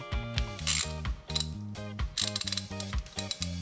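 Ratchet socket wrench turning a 17 mm bolt on an axle U-joint, with a 22 mm wrench holding the other side: rapid loud metallic clicking in repeated bursts of strokes, close and alone.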